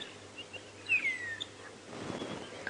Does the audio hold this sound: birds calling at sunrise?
yes